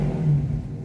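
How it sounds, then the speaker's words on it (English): A 2018 Scatpack 392 with a mid muffler delete rumbles loud and close in a steady, deep drone with slight swells, and nobody talks over it. "I got the mid muffler delete, and it's pretty loud"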